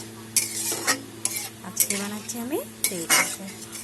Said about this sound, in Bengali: ভেজে রাখা মাছগুলো, কই মাছগুলো এখন দিয়ে দেবো